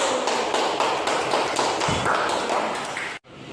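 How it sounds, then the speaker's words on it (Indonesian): Applause for a presenter at an Indonesian school or community event, a dense steady wash of many hands clapping throughout, ending abruptly near the close. "Ya, tepuk tangan buat Mas Wahyu."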